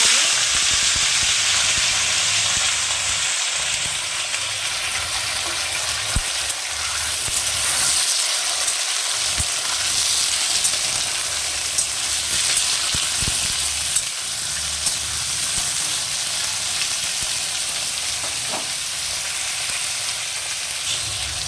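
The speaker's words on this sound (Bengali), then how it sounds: "পোস্তর জন্য আলুটাকে আমি ভালো করে ভেজে নিচ্ছি।" Cut potatoes fry in a pan for posto with a continuous loud sizzle and hiss. There are occasional stirring scrapes and short dips in the sizzle, and no voices.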